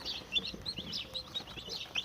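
Broiler chicks chirp in quick, overlapping high peeps, a busy flock heard close and moderately loud over a short stretch with no talking.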